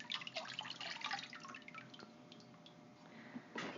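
Pottery glaze dripping off a freshly poured pot: faint, scattered liquid drips and small trickles, quiet and close, ending with a slightly fuller splash.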